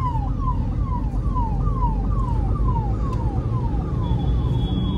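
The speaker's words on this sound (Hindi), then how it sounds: "एम्बुलेंस आ रही है उसको रास्ता दे देते हैं।" An ambulance siren wails in a rapid repeating rising-falling pattern, loud and steady over rumbling traffic noise on a road in Gurgaon, India.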